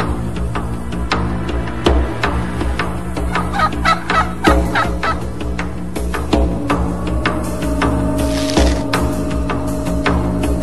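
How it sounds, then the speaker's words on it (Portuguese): Wild turkey gobbles loud and close in a Mexican canyon, a run of repeated rattling calls through the whole stretch with no talking. "esse é o primeiro peru que eu pego com arco e flecha"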